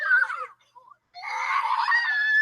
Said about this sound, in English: Screaming kids.